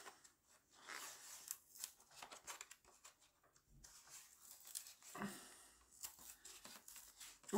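Paper and plastic packaging from an online order of DIY and scrapbooking supplies is torn and unwrapped up close, with irregular rips, crinkles and rustles in quick bursts and no talking.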